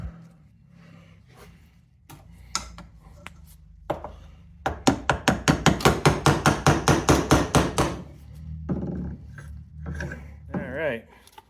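A rapid run of sharp metallic hammer strikes rings out during an engine swap on a 1987 four-wheel-drive Toyota Tercel, about a dozen close blows in quick rhythm, with scattered clanks of parts before and after.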